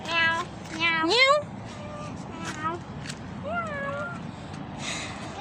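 A cat in a garden meows several times, clear, close rising and falling calls spaced across a few seconds, while a person also calls out meow sounds in imitation.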